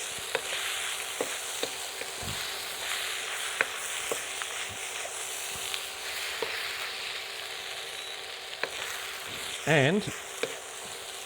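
Chicken fried rice sizzles steadily in a hot pan as soy sauce is stirred through, a constant close frying hiss punctuated by the scrape and clack of a utensil, with a brief word spoken near the start.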